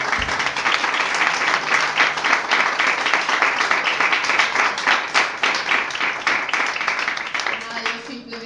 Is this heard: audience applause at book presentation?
yes